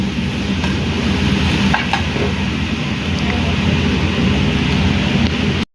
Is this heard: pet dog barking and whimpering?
no